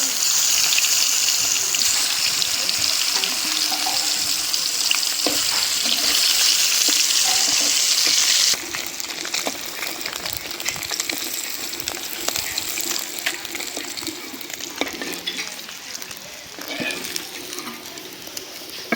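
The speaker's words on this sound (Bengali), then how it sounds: "হয়ে গেল মাছ ভাজা।" Pieces of snakehead fish fry in hot oil in a home kitchen, making a loud, steady hissing sizzle that drops abruptly to a quieter, crackling fry partway through.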